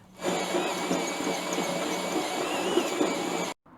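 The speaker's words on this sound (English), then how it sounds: "I always find that just helps a little bit when I'm using the hole saw." Steady, loud mechanical whine of a drill with a hole saw cutting through a van's metal body, running continuously for several seconds before stopping abruptly.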